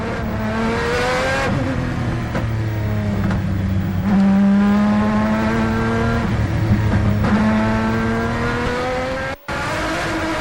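A GT race car drives through the corner complex at Silverstone, its engine droning loud and steady as it shifts and changes pitch through the bends, with a brief dropout near the end.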